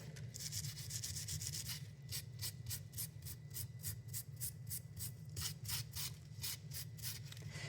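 Wire jewelry is rubbed back and forth to polish it, making a fast, even series of close, scratchy strokes. There is a steady low hum underneath and no talking.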